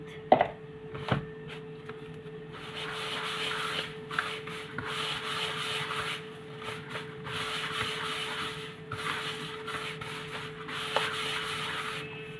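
Steady gritty rubbing and scraping of semolina grains by hand as ghee is worked in, in repeated bursts with a faint background hum and a few sharp knocks at the start.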